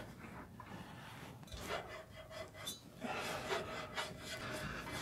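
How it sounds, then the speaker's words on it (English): Faint rubbing and squeaking of a rubber shock absorber bushing being wiggled back and forth on a stud of a Ford F-150, in irregular bursts heard up close. "Wiggle it back and forth a little bit, try to get that rubber to kind of, you know, unseal from the stud that's up there."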